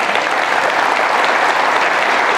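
Students clap together at a school morning assembly, a loud, dense and steady burst of applause with no talk over it.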